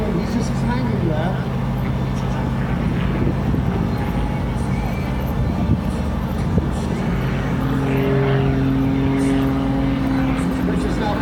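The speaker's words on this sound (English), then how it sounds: "We'll see the aeroplane hovering now." A propeller aeroplane hovers at an air display, its engine droning steadily with a sustained tonal hum, while a commentator talks throughout.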